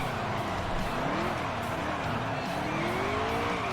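A race car in NASCAR Heat 3 does a burnout with its tyres spinning, a continuous squealing whine that wavers in pitch over a steady engine roar for the whole stretch.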